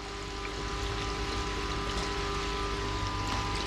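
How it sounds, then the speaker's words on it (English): Water bubbles inside a custom UV light chamber, a faint continuous hissing, gurgling wash with a steady hum beneath and no talk. "There's some bubbling going on"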